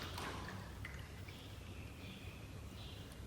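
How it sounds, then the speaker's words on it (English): Water poured carefully into a container for homemade paint, a soft, faint trickle and splash with a few drips, heard close up and alone. "I'm going to pour the water"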